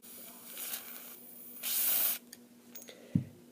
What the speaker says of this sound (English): we're just going to spray a little bit inside the DogBone carrier